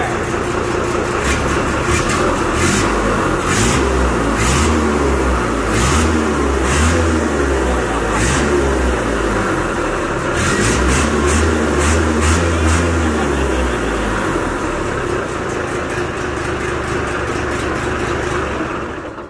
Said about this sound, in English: I got her in neutral so we can rev her up.